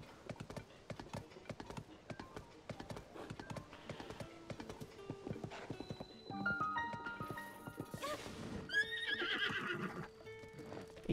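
A horse in Zelda Tears of the Kingdom gallops with steady clip-clop hoofbeats, then lets out a loud, shrill neigh near the end. Faint speech can be heard beneath the game sounds.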